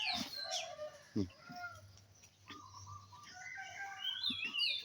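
A rooster crows in a rambutan orchard garden, faint and somewhat distant, with hens clucking and small birds chirping around it.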